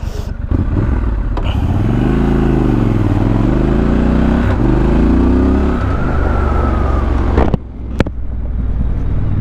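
A 2019 Triumph Scrambler 1200 XE motorcycle rides on a dirt road, its engine loud and close, rising and falling in pitch as it revs through gears, with wind rush and a brief dip near the end.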